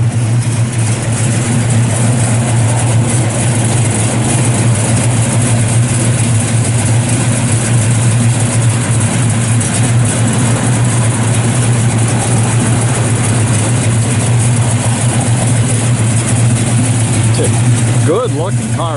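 A 1967 Chevrolet Chevelle SS 396 with a mildly built V8, a cam and dual Flowmaster exhausts idles steadily for the whole stretch, a loud, close, deep rumble that does not change.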